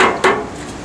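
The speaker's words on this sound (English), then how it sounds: "take your little hammer and just tap it flat" A small hammer taps a rough spot flat on a piece of wood, two close, solid knocks, the second ringing briefly, heard alone.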